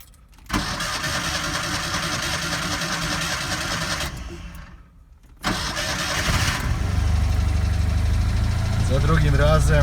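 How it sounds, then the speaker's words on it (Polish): A Fiat 126p engine cranking with a raspy whir, pausing briefly, then cranking again until it catches and settles into a low, rough idle, close and loud. "musiał trochę podciągnąć paliwka, ale uruchomił się."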